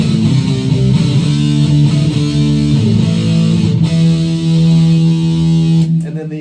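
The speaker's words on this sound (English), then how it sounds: "that type of distortion, and the two pickups together," Distorted Telecaster electric guitar played with both pickups together, a sustained overdriven chord ringing loud and steady before cutting off near the end.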